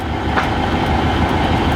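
Train running on rails on a line from Ardwick toward Edale and Sheffield, a steady loud rumble with wheel clatter throughout, heard close from inside the carriage.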